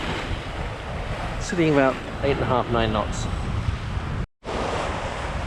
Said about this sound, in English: today we have the lovely offshore breeze, which is starting to produce a few waves